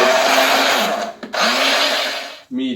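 Bread ends whirr in a food processor for breadcrumbs, two loud grinding bursts with a brief stop between, then a short low voice-like sound at the end.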